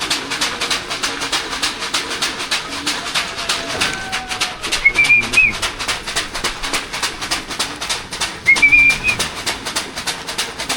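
Pigeons flying around outdoors give a couple of short whistling coos over a constant rhythmic ticking and wingbeat-like flutter, fairly close.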